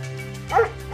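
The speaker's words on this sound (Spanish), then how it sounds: "sus 3 perros ladraban furiosos desde la parte de atrás" Dogs bark from the back of a house, one short loud bow-wow rising in the middle of a brief moment with fainter yips around it.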